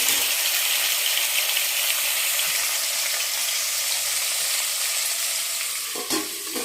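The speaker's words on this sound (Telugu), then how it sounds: "ఇది మగ్గుతూ ఉంటుందండి." Covered pan of sambar ingredients simmering, a continuous close sizzle and bubbling with a small rattle near the end.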